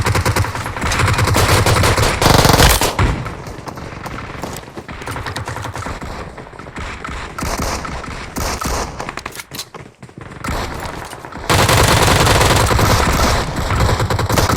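Loud bursts of automatic gunfire in the battle royale video game PUBG Mobile come in dense volleys with short pauses between them.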